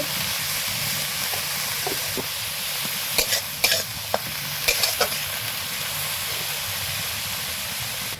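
Leafy greens with salt and a little turmeric cook in a pan, giving a steady watery sizzle and hiss as moisture cooks out, with a few brief clinks and stirring scrapes near the middle.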